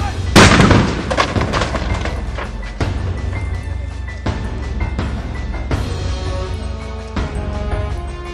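A simulated explosion set off during a national-level emergency response exercise gives a loud, sudden boom, followed by a string of sharp cracks and rumbling blasts, close and powerful.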